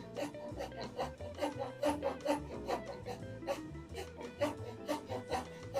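A hand saw cuts a kerf in wood with close, rhythmic rasping strokes, about two or three per second, each a short scratchy burst, with no talk.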